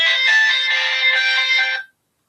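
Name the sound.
phone ringtone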